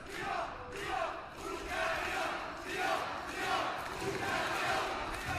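Crowd at the mixed doubles teqball world championship final, Hungary versus Brazil, chanting and cheering in rhythmic surges, loud and roomy, with a commentator's voice running underneath.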